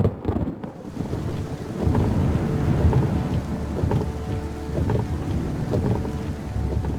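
Heavy storm with rain pouring and thunder rumbling, a dense, loud wash of rain over deep continuous rumble, without voices; the event is Hurricane Katrina.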